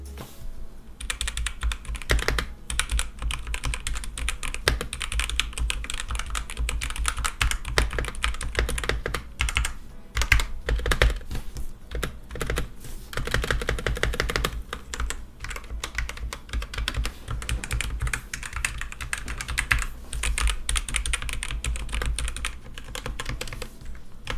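Continuous, fast typing on an MSI Forge GK310 mechanical keyboard, with dense, close key clacks and irregular bursts of keystrokes running unbroken and alone for the whole stretch.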